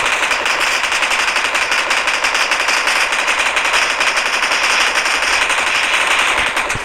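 Rapid automatic gunfire from the BGMI mobile battle royale game rattles continuously in dense, loud bursts for the whole stretch, fading slightly at the very end.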